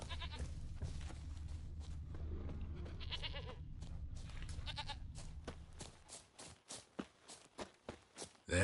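A goat bleats faintly in The Witcher 3 video game over a low ambient rumble, then quick footsteps patter close by toward the end.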